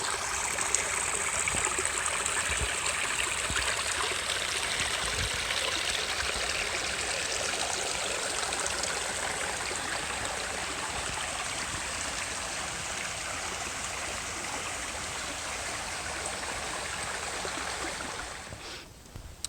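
A small stream at a forest trail water crossing on the Old Loggers Path, rushing and gurgling in a steady close wash that holds constant for the whole stretch before cutting off.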